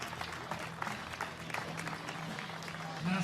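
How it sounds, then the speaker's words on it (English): Crowd at the 2018 European Archery Championships compound finals in Legnica applauds a Danish archer, steady clapping throughout that swells slightly near the end, with an announcer's voice over the arena sound system. "Got a lot of support in the crowd, Tanja Jensen."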